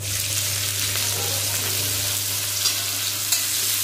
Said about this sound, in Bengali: পেঁয়াজটা হালকা করে ভেজে নিচ্ছি।